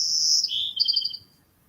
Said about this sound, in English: Here's my song sparrow.